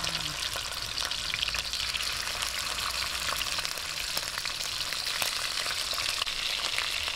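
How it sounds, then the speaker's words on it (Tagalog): Chicken pieces fry in garlic-infused oil, giving a continuous, even sizzle and crackle close up with occasional sharper pops and no voices. "Medyo po iprito natin siya ng bahagya."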